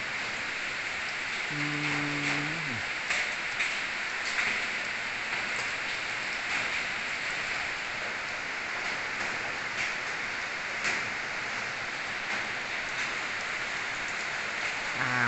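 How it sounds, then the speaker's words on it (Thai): Steady rain falls all day at a rural home in Huai Thap Than, Sisaket, Thailand in late August, a continuous dense hiss of drops on surfaces with a brief low tone early on, no speech. "วันนี้พา มาโชว์ฝนตกที่บ้านฉัน"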